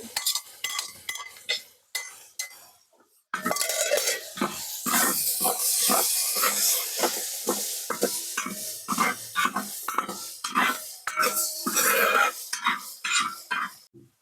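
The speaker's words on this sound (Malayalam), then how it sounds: "കറിവേപ്പില വെളുത്തുള്ളി ഇതെല്ലാം ഒന്നിച്ചിട്ട് നമുക്ക് വറുത്തെടുക്കാം" Curry leaves, garlic and green chillies sizzle in hot oil for a dry shark fish pickle, with frequent scraping and clinking of a spoon stirring in the pan, close up.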